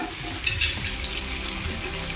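Onions and green chillies sauté in a pan for chicken biryani, giving a steady, soft sizzle with occasional stirring scrapes close by. No one speaks.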